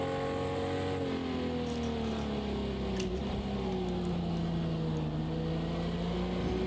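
A Jaguar E-Type engine drones steadily in the Project Cars 2 racing game at Watkins Glen, its pitch sliding slowly down and then levelling, under continuous road and wind noise, with no talk.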